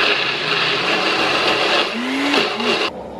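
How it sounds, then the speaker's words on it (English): A kitchen blender whirs loudly while blending hazelnuts, roasted red peppers and onions, a steady close motor drone that wavers in pitch before cutting off abruptly. "So here's all the hazelnuts, the roasted red peppers, and the onions in the blender"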